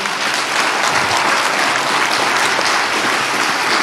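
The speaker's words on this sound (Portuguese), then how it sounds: "Dá uma salva de palmas a Ele." A church congregation applauds during a service, dense and loud clapping from many people that fills the room evenly from start to finish with no pauses.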